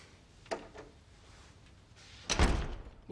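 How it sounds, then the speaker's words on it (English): A door is shut in an office, with a soft knock early on followed by a louder thudding close near the end over a quiet room tone. "Close the door."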